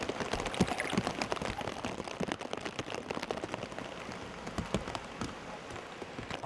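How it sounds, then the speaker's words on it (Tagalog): Heavy rain pours in a remote rural village, a dense steady patter of drops striking surfaces all around, continuous and close, with no voices. "Sinalubong kami ng malakas na ulan sa aming pagdating sa sitio Dumalugdog."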